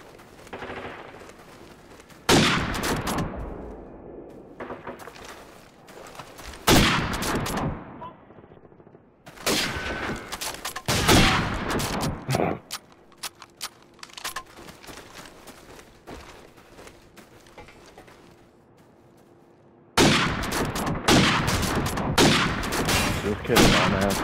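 Repeated bursts of gunfire from a first-person shooter video game, some single shotgun blasts and some rapid strings, loud and close, separated by quieter stretches with a faint steady hum.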